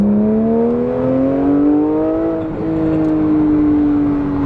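Jaguar car engine revving loudly up close, a steady rising drone that climbs in pitch, dips briefly, then pulls higher again without any talking.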